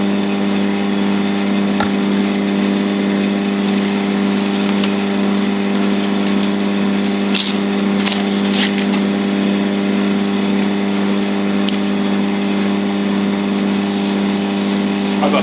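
A lathe spins an acrylic pen blank while 320-grit sandpaper works it, producing a loud, steady motor hum with a constant tonal drone and occasional light scuffing accents.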